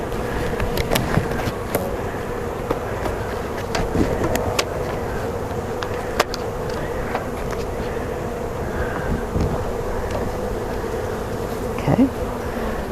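A dense, steady buzzing of many honey bees fills the whole clip, loud and close, with a few light knocks and a brief spoken word.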